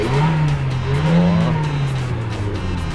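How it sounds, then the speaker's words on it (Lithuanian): A vehicle engine idles and revs in a traffic jam, a close steady droning hum that rises in pitch briefly near the middle before settling back, with no talk over it. "Nu, variklis tai jau girdės"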